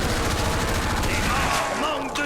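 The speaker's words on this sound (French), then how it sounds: "Vous avez vu la différence? SMG, fusil d'assaut." Rapid automatic SMG and assault rifle fire bursts nonstop in a Black Ops zombies game, dense and loud, tailing into a brief whoosh and a voice near the end.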